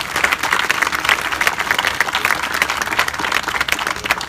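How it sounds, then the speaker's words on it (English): Audience at a state senate swearing-in ceremony applauding, with a dense, sustained patter of many hands clapping at even loudness throughout and no talking. "Please give John Pettis another round of applause."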